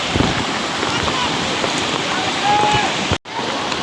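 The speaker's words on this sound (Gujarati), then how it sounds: "જોરદાર પૂર આવ્યું છે ભાઈ" Floodwater rushes over a bridge during heavy rain, a loud, dense, continuous roar of water and rain with a brief dropout near the end.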